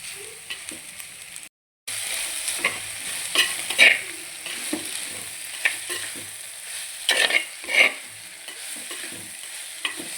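Onions sizzle in a pan while being stirred, with soft scraping strokes and a steady frying hiss after a brief gap, no talking.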